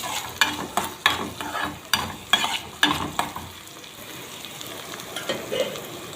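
Onion frying in a pan for lentils with vermicelli, stirred with a utensil that knocks against the pan in repeated scraping strokes over a constant sizzle, strokes fading toward the end.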